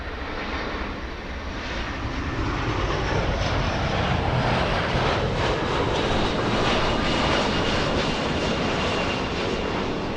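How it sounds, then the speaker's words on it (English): A Delta Boeing 757 airliner arriving at LAX from Minneapolis makes a broad, steady jet roar that swells and holds loud throughout, with no talk. "757 flying in from Minneapolis. That's Delta's 2119."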